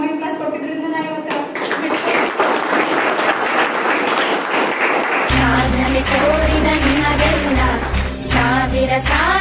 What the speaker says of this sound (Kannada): ಸಾವಿರ ಸಾವಿರ ಚಪ್ಪಾಳೆ ನಾಡಿನ ಕೀರ್ತಿಯ ಬೆಳಗಿಸಿದ ನಿಮಗಿದು ಹೆಮ್ಮೆಯ ಚಪ್ಪಾಳೆ